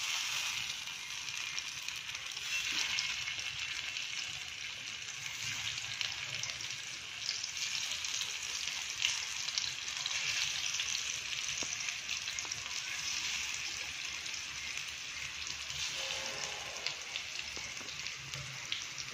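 Kothimbir vadi, crisp coriander fritters, frying in a little oil on a hot tava with the gas turned up, giving a steady, dense sizzle that holds evenly close by with no talk over it.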